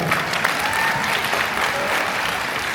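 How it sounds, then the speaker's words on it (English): Large convention crowd in Macau giving a round of applause, loud, dense and continuous clapping with crowd noise throughout. "let's give yourselves a round of applause"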